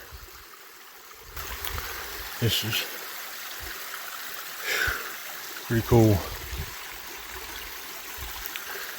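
A river or stream flows steadily at the bottom of a valley during an outdoor buck hunt in Washington high country, a continuous hissing wash with someone speaking briefly over it and a few rustling footsteps.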